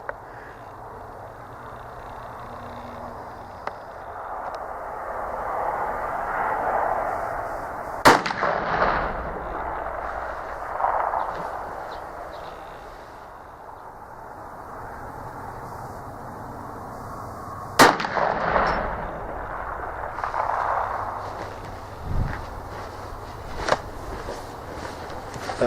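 Two sharp gunshots from a TC Impact muzzleloader fired through a scope, spaced about ten seconds apart, each a loud crack followed by a rolling outdoor boom, with quiet wind and ambient noise between.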